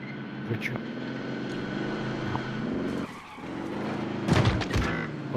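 A car in the battle-royale shooter Warzone revs along with a steady engine growl, then its tires skid and squeal in a rough burst near the end, with faint gunfire in the distance.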